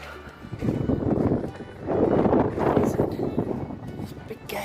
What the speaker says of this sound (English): Oh, it's quite windy.